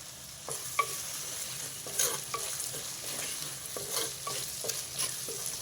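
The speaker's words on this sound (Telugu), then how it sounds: "ఉల్లిపాయలు ఒకసారి కలుపుదాం" Onions for a potato curry being stirred as they fry in a pan, a steady sizzle broken by a series of scraping, clacking spoon strokes at irregular intervals, close and fairly loud with no talking.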